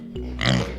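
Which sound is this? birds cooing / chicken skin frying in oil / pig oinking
pig oinking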